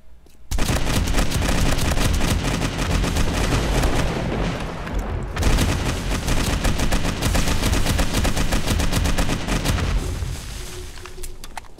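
Rapid automatic gunfire rattles nonstop during a horde night in the survival video game 7 Days to Die, dense, loud and close, broken only by a brief pause midway.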